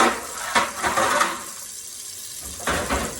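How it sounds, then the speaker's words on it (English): Tap water runs into a kitchen sink as raw chicken is rinsed, a moderate splashing flow with a few sharper bursts and a brief quieter stretch before the water picks up again. "I'm going to rinse the chicken off"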